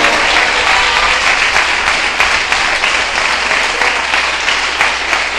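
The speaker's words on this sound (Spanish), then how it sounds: "Denle un aplauso bueno al Señor." A church congregation gives loud, sustained applause, a thick, continuous roar of many hands clapping together with no pause.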